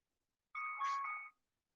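A phone ringtone chimes once, a short bright electronic tone lasting under a second, close by in an otherwise silent room.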